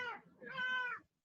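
A house cat meows twice, a short call followed by a longer, drawn-out meow, close and clear with no talking over it.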